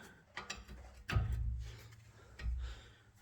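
A ratchet clicks and grinds in short bursts while loosening a wheel bearing bolt on a Jaguar XK XKR 4.2 X150 rear hub, with quiet mechanical knocks between the strokes.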